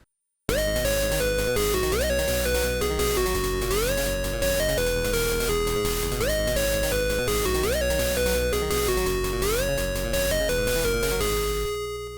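Loud, dense 8-bit chiptune made with Little Sound DJ on a Game Boy, with a bouncing square-wave lead, arpeggios and pulsing bass. It plays continuously for several bars, then cuts off abruptly at the end.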